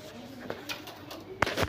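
A red-eyed pigeon gives a few soft coos close by amid low room noise, with a sharper burst of sound near the end.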